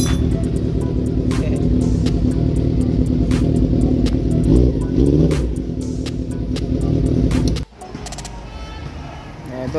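A Honda CB400 cafe racer motorcycle engine idles steadily and close, a continuous rumble that cuts out abruptly near the end, with faint talk in the background.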